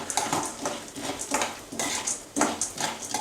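Chana dal being dry-roasted in a pan, heard as rapid, rhythmic clattering and scraping of lentils and a spoon against metal, close and fairly loud.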